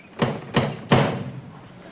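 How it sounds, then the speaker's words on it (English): Three loud, distinct knocks on an apartment door, evenly spaced over a couple of seconds, close and dry with no talk over them. "And he knocks on the door."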